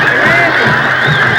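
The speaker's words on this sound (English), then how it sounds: "look at the fans standing up and applauding that" Crowd at a 1991 Homewood vs Vestavia high school football game stands and cheers after a late touchdown, a loud, steady roar of voices and applause filling the short moment without a break.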